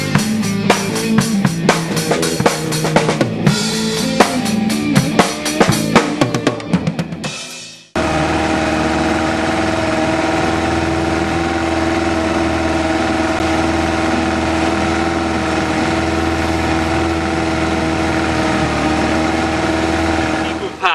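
An antique 1950 Mercury KE4 outboard motor runs steadily with a continuous droning, buzzy hum, loud and close, following a stretch of rapid sputtering pulses.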